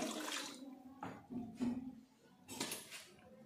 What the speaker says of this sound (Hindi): आता पाणी ऍड करते याच्यामध्ये